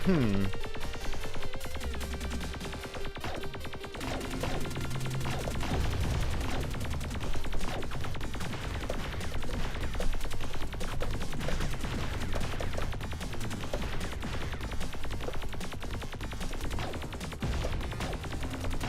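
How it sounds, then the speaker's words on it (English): Weak, thin shot effects from a PC shoot-'em-up game fire in rapid, continuous streams over busy game music and sound effects, steady and moderately loud throughout. "I honestly wish they went with different sound effects for the, you know, the shots"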